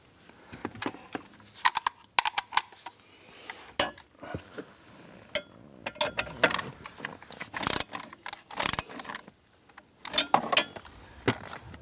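A 10mm bracket nut is snugged down on the blower motor module of a 2008-2013 Nissan Rogue, giving close, irregular metallic clinks and short ratchet-like clicks scattered across the stretch with no talking.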